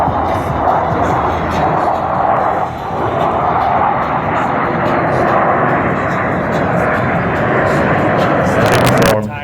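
Aerobatic aircraft roaring past in a diamond-formation aileron roll at an air show at Loveland Airport, Colorado, a loud continuous engine drone that swells and fades, with crowd and announcer noise beneath.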